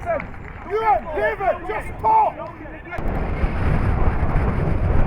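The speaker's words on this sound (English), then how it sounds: "Wind absolutely swirling around Key Park venue." Wind swirls around the outdoor Key Park football ground during an East Kilbride match, a low rushing roar buffeting the microphone that takes over after a commentator speaks for the first few seconds.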